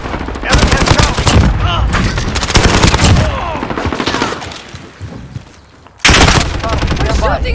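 Dense, loud automatic gunfire in Call of Duty: Modern Warfare on the cramped Shipment map, rapid bursts with a brief lull before a sudden fresh volley, with voices talking in between.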